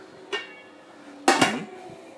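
A metal pot lid is handled in a kitchen, giving two sharp clanks a second apart, the second louder and ringing briefly, with no talking.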